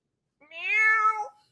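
A single drawn-out meow from a person imitating a cat, rising then falling, heard alone against silence.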